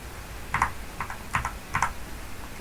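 Keyboard shortcut keys pressed while working in Microsoft Excel: a few short bursts of clicky key taps in quick clusters, close and clear with no talking.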